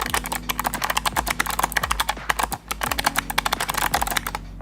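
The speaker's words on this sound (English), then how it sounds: "this is an extremely clicky keyboard" Rapid, loud typing on a very clicky Logitech G815 mechanical keyboard, a dense run of sharp keystroke clicks with a brief pause midway, heard up close and alone.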